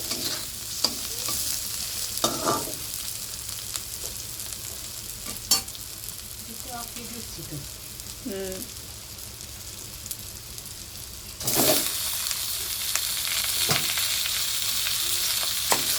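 Onion and chicken frying in a pan for a home-cooked mutton-style curry: a continuous close sizzle with scattered clinks and scrapes of stirring, then the hiss swells noticeably louder partway through, with no talking.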